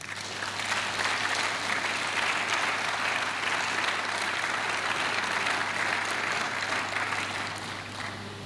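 A church congregation at a French-language prophetic service bursts into sustained applause, a dense, even wash of clapping hands that holds steady for several seconds before easing slightly at the end.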